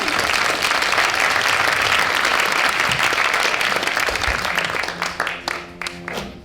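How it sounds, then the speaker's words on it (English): A large audience at an improv theater community event applauds loudly, the dense clapping sustained for several seconds before thinning into scattered claps at the end. "make a round of applause for the Theater of Public Policy."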